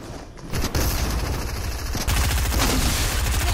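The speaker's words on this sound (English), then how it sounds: "Gonna shoot a flare at him." Gunfire in an air-raid video game as a flare is shot, loud dense bursts of rapid shots with a brief lull before the firing resumes and continues steadily.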